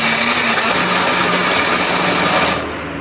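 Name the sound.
blender grinding spice paste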